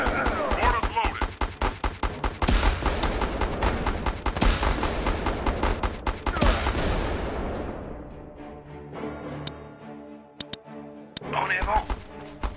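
Mortar and gunfire crackle in Battle Islands: Commanders, a dense barrage of rapid shots and thumps for several seconds that thins out, with a short burst of fire returning near the end.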